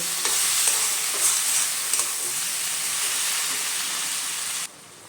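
Tomato and turmeric masala sizzles and fries in a pan while being stirred, a steady close hiss of frying with soft scraping strokes, which ends abruptly near the finish.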